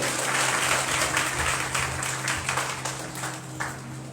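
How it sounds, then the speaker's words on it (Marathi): A church congregation at a Sunday service clapping loudly and steadily, with a low hum running underneath and the applause trailing off slightly toward the end. "जोरदार टाळी वाजवूया"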